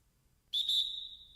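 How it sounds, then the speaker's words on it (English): A single referee whistle blast cuts in sharply and holds a steady, shrill tone for nearly a second before fading slightly, loud and alone over a quiet background. "blow the whistle"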